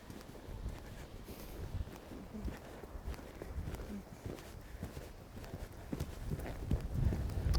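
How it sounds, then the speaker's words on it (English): A horse canters in a schooling ring ahead of a small upright jump, its hoofbeats thudding in a steady three-beat rhythm. The footfalls are fairly close and moderately loud over a light background breeze, with no talking. "We're just working on getting a nice canter ready to go in the ring."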